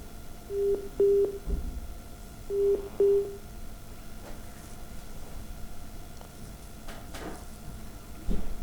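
Telephone busy signal after a dropped call on a live phone-in broadcast, heard as two pairs of short steady tones near the start, followed by faint line noise and a low background hum.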